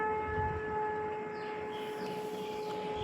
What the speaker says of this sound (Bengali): কার বাড়িতে শাক বাসছে, পুজো হচ্ছে।